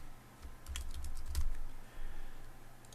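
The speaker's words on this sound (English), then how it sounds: "So I'll type the word" Fingers type a word on a computer keyboard, a quick cluster of light, close key clicks over a low room hum, followed by a pause and a couple of faint taps.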